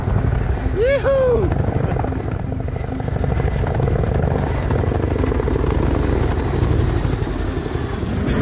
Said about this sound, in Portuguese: Dois helicópteros militares holandeses lançaram grandes sacos de pedras para ajudar a construir uma barragem temporária